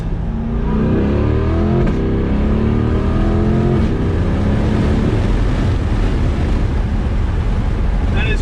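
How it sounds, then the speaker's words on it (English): A C8 Corvette with a Soul Performance aftermarket exhaust roars as it accelerates hard, its engine note climbing through the revs, with wind noise rushing over it. "Soul Performance has quite an exhaust going for them"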